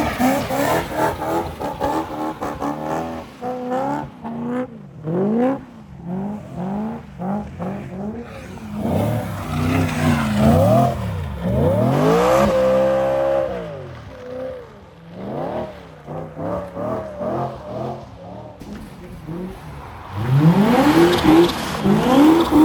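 A BMW M3 engine revs up and down repeatedly through an icy corner in winter, with rising and falling pitch sweeps, some sustained holds and possible tire slip, loud and close throughout.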